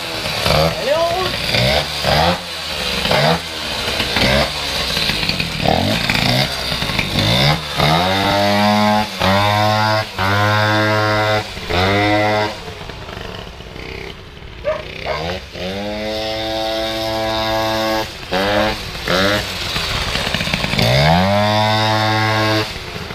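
Rebuilt motorcycle engine, running a little rich at low revs, is started and blipped repeatedly, loud revving bursts rising and falling with idle between them, and a voice speaking at times.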